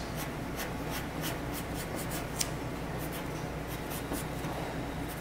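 A pencil scratches across paper in short repeated strokes while eyelashes are drawn, a steady close rasp with a brief light tap in the middle and no talking.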